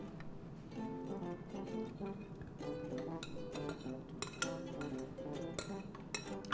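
Metal spoon clinking and scraping against a mixing bowl while dry ingredients for bakery-style blueberry muffins, including a spoon of salt, are stirred together; steady, repeated close-up clinks and taps throughout, with no talking.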